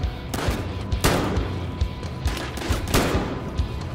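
Rapid gunfire from the Battlefield Hardline video game, continuous bursts of shots with sharp louder cracks standing out, loud and close throughout, with no talking.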